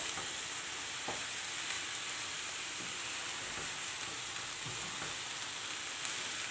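Boiled, drained millet greens sizzle steadily in a pan with no added water, a continuous close frying hiss with faint stirring clatter throughout.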